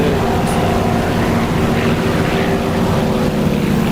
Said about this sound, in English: His engine's dying. I can hear it spooling down.